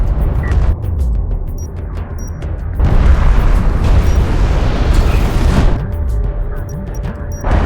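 Enemy railgun fire and explosions rage in Homeworld: Deserts of Kharak, a loud, dense wall of booming blasts and rumbling impacts with sharp cracking bursts layered throughout.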